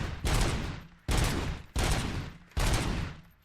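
Burst-fire pistol in RoboCop: Rogue City fires four loud, evenly spaced bursts, each a sharp crack that decays quickly before the next, with no talk.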